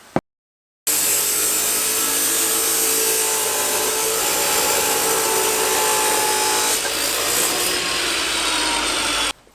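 A power saw cuts through a piece of steel-lined tubing for a kayak upgrade, a loud, steady, harsh grinding whir that runs for about nine seconds close to the listener after a brief startup.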